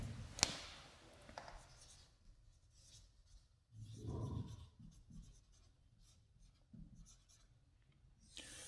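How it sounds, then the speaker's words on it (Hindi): A marker or chalk writes on a board in a quiet classroom, with soft scratchy strokes and taps that come in short irregular bursts. "तो सबसे पहले मैं साइन कन्वेंशन लिख देता हूं यहां पे"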